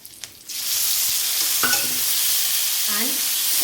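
Tomatoes and onions sautéing on a low flame for tomato chutney: a few light taps, then a loud, even sizzle bursts up and holds steady, with faint clinks of a utensil in the pan.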